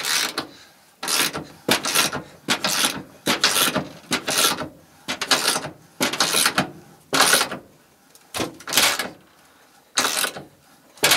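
A wrench ratchets down a fastener onto metal on a two-valve-swap drag build, in repeated close bursts of rapid clicking separated by short pauses, with no talking.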